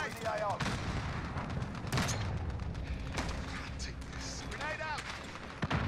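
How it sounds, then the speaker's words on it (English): Modern Warfare battle: a grenade blast and bursts of gunfire, with sharp cracks and heavy booms scattered over a constant rumbling background, while voices talk over the fighting. "Enemy grenade in the AO."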